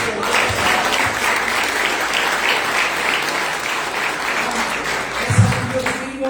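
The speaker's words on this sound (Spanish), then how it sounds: "Un fuerte aplauso a nuestro Dios." Loud, sustained applause from a congregation during a Saturday church service, dense clapping filling the hall throughout with a few voices and cheers mixed in.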